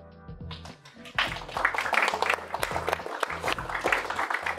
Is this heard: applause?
yes